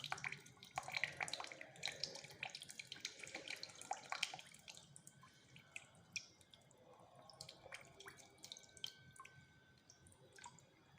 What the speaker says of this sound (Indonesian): kita cuci menggunakan air mengalir